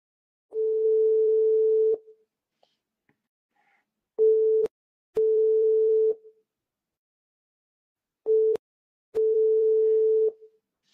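Phone tone while placing a video call: a steady mid-pitched beep repeating in long and short bursts separated by silences, clear and alone with no talking.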